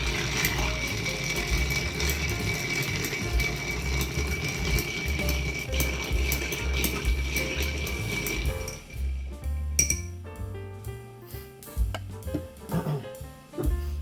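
Ice stirred in a mixing glass for a Manhattan cocktail, a dense continuous clinking and rattling that thins out into separate distinct clinks near the end, close and fairly loud, without speech.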